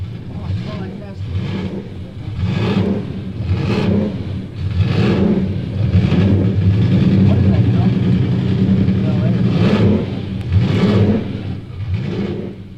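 A 5.5-liter eight-cylinder racing car engine sputters and catches, then roars with repeated revving surges, loud and close, the swells rising and falling for several seconds.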